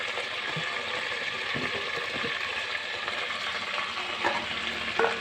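Vegetables for sambar (drumsticks, potatoes, bottle gourd pieces with onions) stirred in a pot, giving a steady close sizzle with soft scraping stirs and a few clinks, no talk.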